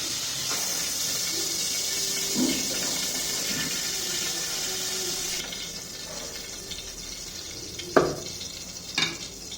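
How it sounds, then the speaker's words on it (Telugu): Onions fry in a spiced tempering for a chicken curry, making a continuous sizzle that quietens midway, followed by a couple of sharp utensil knocks near the end. "ఉల్లిగడ్డలు తాలింపు చేసుకున్నాం."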